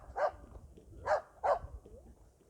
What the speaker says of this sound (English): Is that their dog barking?